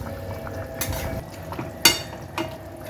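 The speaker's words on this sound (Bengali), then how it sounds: "হ্যাঁ, আমি মাছগুলো এবার দিয়ে দিচ্ছি ঝোলে" Pieces of fish and a fish head are dropped into a simmering cauliflower and potato curry in a pan. There is soft bubbling with a few brief clinks and splashy sizzling bursts, close and alone.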